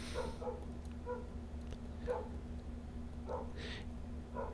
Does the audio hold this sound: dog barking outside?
yes